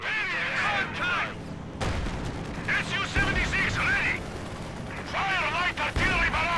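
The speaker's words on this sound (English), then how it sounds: "Fire light artillery barrage!" Gunfire and a light artillery barrage in the Company of Heroes 2 war game fill the mix, with booms and shots under a dense layer of radio-style voice chatter and shouted orders.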